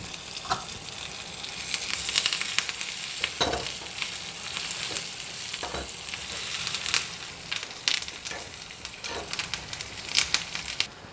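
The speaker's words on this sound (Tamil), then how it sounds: "இப்போது சிகப்பு மிளகா அப்புறம் கருவேப்பிலை போட்டுக்கலாங்க" Red chillies and curry leaves fry in oil with a steady, close sizzle, dotted with crackles and occasional stirring knocks throughout.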